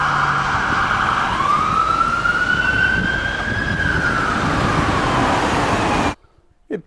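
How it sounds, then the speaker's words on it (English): An ambulance two-tone siren in a Cornish setting wails steadily at middling distance, its pitch gliding up and then easing down before it cuts off abruptly near the end. "waited for the sound of distant two-tones"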